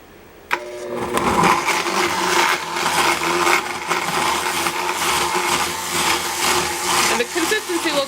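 A blender purees cooked pumpkin, whirring loudly and steadily at low speed for about seven seconds after a click as it switches on, with a slightly rough, churning texture.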